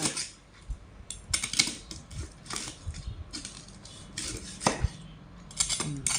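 Crisp crunching and crackling as a knife saws through crispy pork belly on a board, a series of sharp clicks and scrapes close up, no talking.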